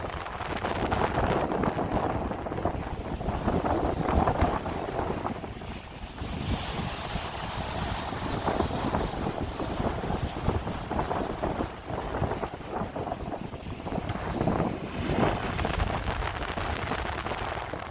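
Strong wind buffets the microphone in gusty rushes at Playa de Las Canteras, Las Palmas, Gran Canaria, with surf and waves rolling underneath throughout.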